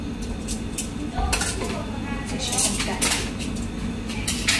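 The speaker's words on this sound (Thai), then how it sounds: "กรรไกรตัดในหม้อแล้วใช่ไหม" Scissors cut sausage inside the pot of a Philips air fryer, producing irregular metallic clinks and scraping taps against the pot while people talk.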